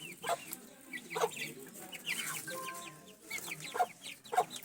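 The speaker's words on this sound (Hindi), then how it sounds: "मेरे मम्मी टमाटर खिला रही है चूजों को" Chicks cluck and peep while pecking at tomatoes in a village yard near Mansehra, with repeated short chirps and clucks over a few seconds, close by, with no talk.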